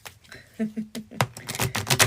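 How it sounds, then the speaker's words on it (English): Tarot cards get a quick shuffle, a burst of soft, rapid riffling taps and flutters close to the microphone over about two seconds. "Quick shuffle."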